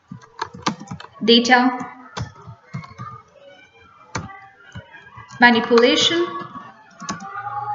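Computer keys clatter in short irregular bursts of tapping while entering data into MS Access, with a person speaking over and between the typing.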